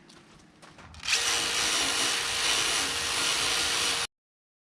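A power tool, likely a wire brush or grinder, busting rust off a Mazda gas tank: it spins up after a second of quiet, then runs as a loud, steady, harsh whir before cutting off abruptly.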